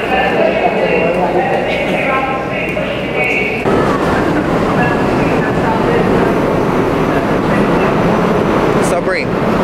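A New York subway train riding along, with a loud, steady rumble and rattle filling the car and a brief high squeal near the end, while people talk under the noise.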